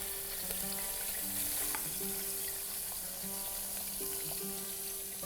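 Spice paste dropped into a hot pan with fenugreek seeds and chillies for a fish salan, giving a steady close sizzle and crackle of frying that runs evenly throughout, with no talking.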